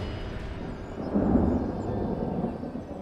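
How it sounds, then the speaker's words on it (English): Thunder rumbles over the Bay of Islands in New Zealand as a rescue team arrives, a low, distant roll that swells briefly and then lingers under a steady background drone. "Oh, a bit of thunder."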